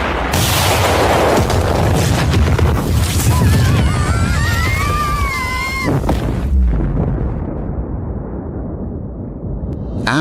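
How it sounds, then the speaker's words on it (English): A large explosion in an animated Goku fight, a loud sustained roar and rumble with crackling bursts and whooshing tones, cutting off abruptly before a short quiet tail. "After the explosion finally settled"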